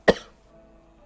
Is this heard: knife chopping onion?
no